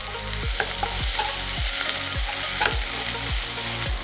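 Half an onion fries in oil in a pan with a constant close sizzle, broken about twice a second by regular scraping stirs of a spatula that thump in a steady rhythm.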